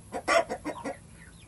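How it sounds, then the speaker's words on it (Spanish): A hen gives a short run of clucks, five or six quick throaty pulses in a row, fairly close, with no talking. "Esta es la única gallina que quedó de las viejas."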